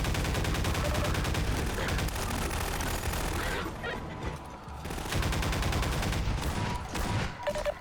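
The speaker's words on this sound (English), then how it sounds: "wasting ammo on this gun" Rapid gunfire from the player's weapon in Half-Life 2 rattles loud and close in dense bursts, easing briefly in the middle before resuming, with no talk.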